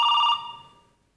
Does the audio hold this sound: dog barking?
no